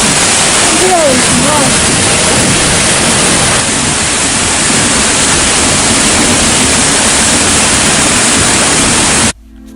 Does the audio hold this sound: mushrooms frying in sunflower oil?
no